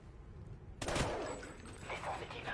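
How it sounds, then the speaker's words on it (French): Gunfire erupts in a Call of Duty Ghosts campaign mission: a quiet ambient stretch, then a sudden loud burst of rapid automatic fire that decays into echoing rumble, with a few further shots trailing off. "Attends, Riley, s'il attaque la cible, tire pour tuer."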